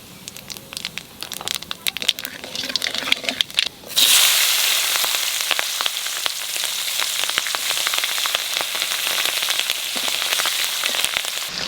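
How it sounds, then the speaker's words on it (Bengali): Nigella seeds and green chillies hit hot oil left from frying fish and burst into a loud, crackling sizzle partway through that keeps popping steadily to the end. "তেলের পর দিয়ে দেবো কালো জিরে আর কাঁচা লঙ্কা"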